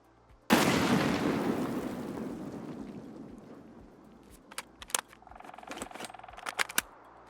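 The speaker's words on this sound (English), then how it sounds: "Good nade." A grenade detonates in Escape from Tarkov on a coastline map, one sudden loud blast with a long rolling decay, followed by scattered sharp clicks and distant gunfire cracks.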